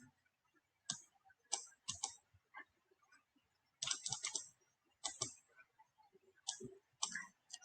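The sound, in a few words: computer mouse clicking while designing Cricut cake toppers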